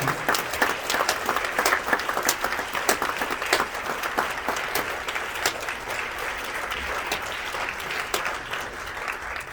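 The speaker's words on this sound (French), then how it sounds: "je vous demande d'applaudir très fort Raúl Cerezo qui est là." A festival cinema audience applauds a film director at a screening, with sharp distinct claps at first settling into steady, fairly close applause.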